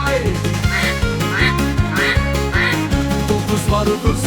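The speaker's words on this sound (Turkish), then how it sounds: "Sekiz ördek bak bak suyun üstü kay kay." Ducks quack in a short repeating pattern within a children's counting song about animals, with loud musical accompaniment and a steady bass beat underneath.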